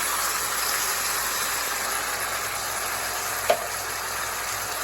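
Tomatoes sizzling in a hot pan, a steady loud hiss of frying that holds evenly throughout, with one brief sharp tap partway through.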